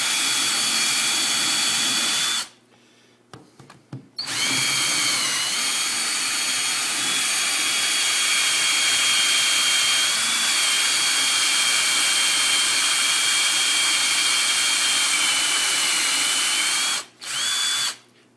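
A power drill boring holes into reef rock for coral frag plugs: a loud, continuous high whine runs nearly throughout, broken by one short pause early on and another near the end.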